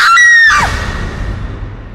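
A woman's loud, piercing scream in a horror story rises sharply at once, holds for about half a second, then breaks off into a fading noisy echo.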